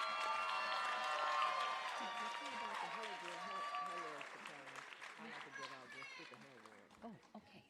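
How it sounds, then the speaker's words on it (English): Applause and cheering from a crowd at a graduate and undergraduate nursing pinning ceremony, a dense sustained wash of claps with voices mixed in, loud at first and gradually thinning. "Let's give the graduates who have been pinned and bestowed a round of applause."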